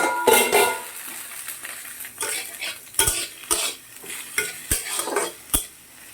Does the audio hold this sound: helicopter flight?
no